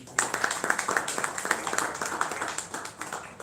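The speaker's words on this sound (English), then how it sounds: "So please give the round of applause for all." Applause from a modest audience at a film festival award ceremony honours the jury, a short burst of scattered, fairly close hand claps that thins out after a few seconds.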